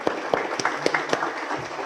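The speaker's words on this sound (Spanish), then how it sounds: "por favor, me acompañen con un aplauso" Light, sparse applause from a seminar audience, a few sharp individual claps standing out over a low crowd murmur, fairly close and short.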